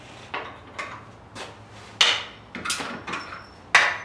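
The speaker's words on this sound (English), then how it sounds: "get the nails clipped off with some side cutters" Side cutters snipping nails off wooden door casing: about seven sharp, close metallic clicks and snaps at uneven intervals, each with a brief ring, in an otherwise quiet room with no speech.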